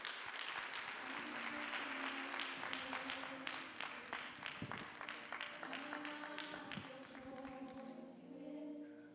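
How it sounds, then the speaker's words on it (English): An audience at a G20 community engagement town hall in Rustenburg breaks into sustained clapping, full and even at first, then slowly thinning out. "Round of applause."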